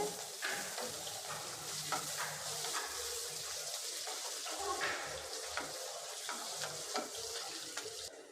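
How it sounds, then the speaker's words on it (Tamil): Chopped onions fry in oil with a steady sizzle and occasional stirring scrapes, a continuous crackling hiss close by, no talking. "இப்போ அதை நல்லா வதக்கி விட்டுருங்க"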